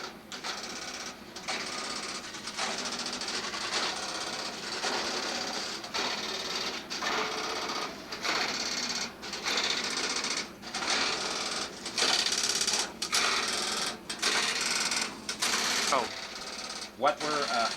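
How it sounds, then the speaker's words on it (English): Relays and stepping switches of a 701B step-by-step PBX exchange clatter busily in a machine room, a dense, steady mechanical chatter with rapid clicks and brief pauses, loud and close, with occasional speech underneath. "What is happening is I'm pushing a line relay."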